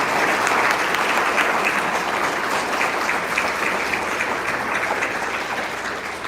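Sustained applause from an audience at a scholarship winners' reception, steady, dense clapping holding at even loudness for several seconds, with no voices.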